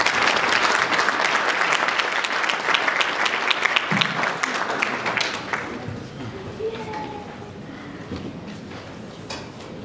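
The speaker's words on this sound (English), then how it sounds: "Let us give them a round of applause." An audience at a youth empowerment gala and awards evening applauds sponsors, dense clapping that stays loud for several seconds and then thins out to scattered claps with some murmuring.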